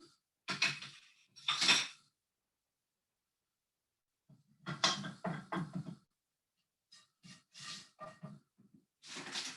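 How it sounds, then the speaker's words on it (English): Apples, garlic and onions are stirred in a pan over an outdoor fire, heard as short bursts of scraping and clattering separated by silent pauses, with no voices. "So we're going to get the fire going here and stir up stuff"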